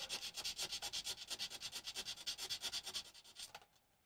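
Sandpaper rubbed by hand in fast, even back-and-forth strokes, roughly thirty close scratchy passes in a steady rhythm before stopping.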